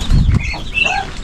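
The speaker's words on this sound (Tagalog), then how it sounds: "Super dami na ng manok at saka yung mga pato" Farm chickens cluck and call close by alongside ducks, with a brief burst of low rustling or flapping at the start followed by several short clucking vocalizations.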